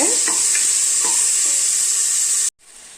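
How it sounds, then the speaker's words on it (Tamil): Beetroot sautéing in a hot pan for beetroot soup, a loud, continuous hissing sizzle with faint stirring scrapes that cuts out abruptly, leaving a softer hiss. "பீட்ரூட் நல்லா கொஞ்சம் நல்லா வதக்கிக்கோங்க. ஒரு 2 நிமிஷம் நல்லா வதக்கிக்கோங்க"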